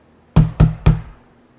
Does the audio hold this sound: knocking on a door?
yes